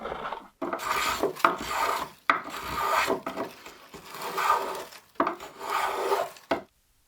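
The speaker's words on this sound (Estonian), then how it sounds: "Kõlakoja seest silumiseks on väga hea tööriist näpuhöövel." Finger plane smoothing the inside of a hollowed wooden kantele sound box: repeated rasping strokes, about six in a steady back-and-forth rhythm, close and fairly loud, each separated by a short pause.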